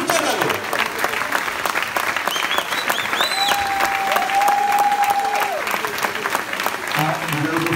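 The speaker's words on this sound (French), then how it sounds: "les applaudissements du public de la salle du Cabaret" Audience applause fills a sports hall during a team presentation evening, steady dense clapping throughout with some cheering and a whistle-like tone rising partway through, voices audible beneath.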